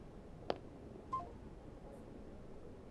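Telephone keypad tones from a phone being dialed in a drama scene, two or three short, faint beeps spaced apart against quiet room tone.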